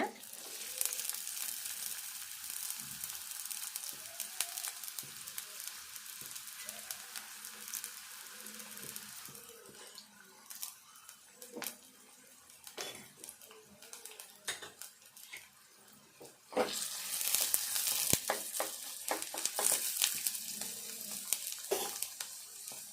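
Onions frying in oil in a kadai, heard as a soft, steady sizzle broken by scraping and clinking of a spatula against the metal pan, close but low in level, getting busier and louder near the end.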